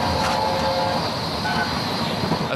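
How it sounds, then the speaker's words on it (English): A1 steam locomotive 60163 Tornado hauling a train past Darlington, heard as a steady, loud roar of wheels and running gear with no clear break in the noise. "As the train sprints past Darlington"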